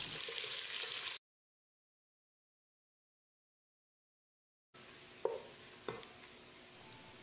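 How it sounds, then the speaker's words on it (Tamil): Sliced onions sizzling in a pan as they fry to golden brown, interrupted by a stretch of silence, then more frying with a couple of sharp scrapes from stirring. "ரெண்டு பெரிய வெங்காயம் நீளவாக்கில் நறுக்கினது வெங்காயத்தை பொன்னிறமாக வதக்கிடலாம்"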